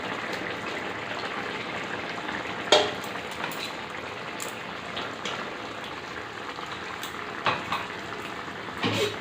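Spices frying in a pan with boiled arum stolons, a steady soft sizzle throughout with a few sharper clatters and bursts, close and fairly quiet, with no talking.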